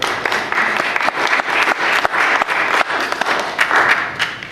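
An indoor audience at a book tour event applauds steadily, a dense wash of many hands clapping with uneven swells, carrying on for several seconds with no talk over it.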